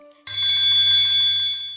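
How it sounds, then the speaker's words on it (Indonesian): A school bell rings for home time in an animated children's cartoon, starting loud and bright after a brief quiet moment and holding as a steady, continuous ring to the end. "Bel pulang pun akhirnya berbunyi."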